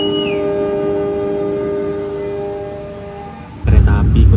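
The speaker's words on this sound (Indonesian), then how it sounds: "Kereta api Kutojaya Selatan tambahan udah diberangkatkan dari stasiun Cibatu." An extra Kutojaya Selatan passenger train departs Cibatu station, its steady horn-like tones and rumbling running gear sounding together, then a louder burst of rumble and clatter comes in near the end.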